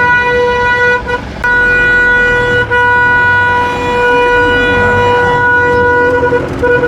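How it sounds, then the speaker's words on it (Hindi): A vehicle pulls away in heavy traffic of small local cars on the Kedarnath pilgrimage route, with a loud, sustained horn blaring nearby over the engine noise. "गाड़ी हमारी निकल चुकी है।"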